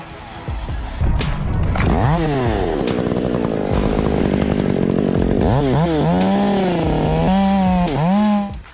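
A chainsaw cuts into a tree, its engine roaring loud and close, revving up and bogging down repeatedly as the chain bites through the wood, with pitch swooping between throttle bursts.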